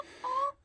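A single short, tonal chicken call comes from inside a farm coop during bitter cold, heard faintly against quiet background noise.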